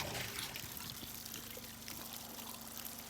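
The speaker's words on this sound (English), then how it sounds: "Owen's pumping some water just to get the pump primed so we can fill the hot tub" Water pours and trickles steadily while a pump is primed to fill a hot tub at an off-grid cabin in Alaska, a continuous close liquid rush with no pauses.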